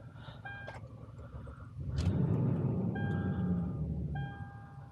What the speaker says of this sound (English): See how it dies? You gotta keep restarting and it'll finally start to idle correctly.